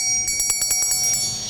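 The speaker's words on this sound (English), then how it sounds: "We got the bell" A small hand bell rings rapidly in a meeting room, a quick run of about ten bright, evenly spaced strikes with a ringing tone that lingers, loud and close.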